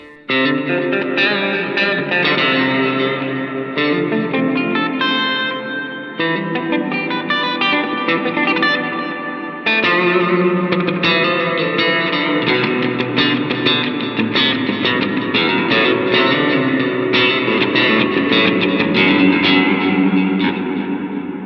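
An electric guitar on a clean tone with the middle pickup selected plays a bright, twangy, snappy part with light effects and reverb, loud and continuous, no talking.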